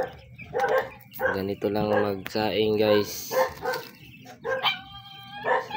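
A dog yips and whines in short bursts while someone talks over it as he cooks rice.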